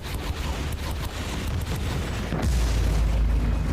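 Grenade blasts in Warhammer 40K: Inquisitor - Martyr form a continuous loud, rumbling roar of battle, with the low boom deepening partway through and no clear pause.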